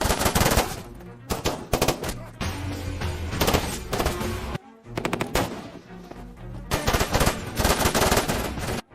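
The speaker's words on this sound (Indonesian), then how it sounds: "Kini desa itu pun telah riuh dengan suara tembakan di mana-mana" Dense gunfire from an action film about special forces troops attacking a village: rapid machine-gun bursts and scattered shots, loud and close, broken by brief pauses.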